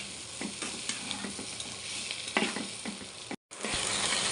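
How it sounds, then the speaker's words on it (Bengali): Pointed gourd slices fry in a pan while being stirred, producing a soft steady sizzle broken by brief scrapes and clatter, heard up close with a short silent gap and no talking. "পটল ভাজি হয়ে গেছে, আর একটু নাড়াচাড়া দিয়ে নামাই নেব"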